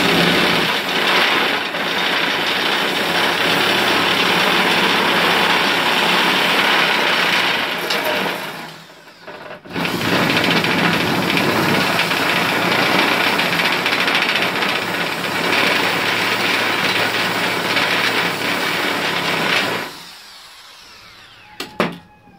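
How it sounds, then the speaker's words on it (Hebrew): Power carving machine driving a 10 mm drill bit that guides the cut as it roughs out a recess in wood: a loud, steady high-pitched whine running for about nine seconds, a brief stop, then another long continuous run before it cuts off. "ואז יש פה מקדח 10 שבעצם מוביל את החריטה, כל הזמן מוביל את החריטה."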